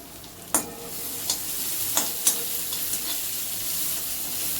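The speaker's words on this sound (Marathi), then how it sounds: "आपण हे फास्ट गॅसवर परतून घेतोय." Green chilli and capsicum stir-fried over a high flame for cabbage Manchurian gravy: a steady broadband sizzle with a few sharp spatula scrapes and clicks against the pan, close and alone with no talk.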